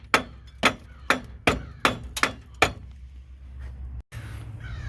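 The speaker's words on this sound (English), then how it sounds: "smack the spindle a little bit. Just jar it." A hammer smacks the front spindle of a 2000-2007 Chevy Impala during a strut replacement: seven sharp, ringing metal blows in an uneven rhythm, close and loud, then quiet shop noise.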